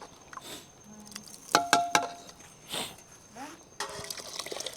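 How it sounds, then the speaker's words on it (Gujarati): Water splashes and trickles into a pot in a few short pours for a whole-onion curry on a wood-fired clay stove outdoors, mixed with sharp metallic clinks and light clatter nearby. "જરૂરિયાત પૂરતું પાણી નાખવાનું છે આપણે રસો કરવા માટે"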